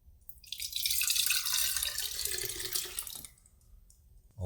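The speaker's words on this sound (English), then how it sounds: "now we're just gonna go and put it in a quart-sized mason jar" Room-temperature potato water poured into a quart-sized mason jar, a bright, splashy stream of liquid lasting about three seconds before cutting off, heard up close with no talk.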